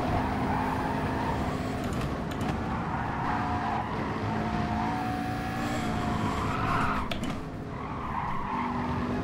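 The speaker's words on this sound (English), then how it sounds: "Especially if we're sliding around like that." Race car tyres slide and squeal in the Gran Turismo Sport racing game over a constant engine roar, with the drawn-out screech rising and falling through repeated slides.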